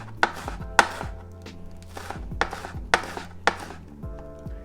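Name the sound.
chopping green onions with a knife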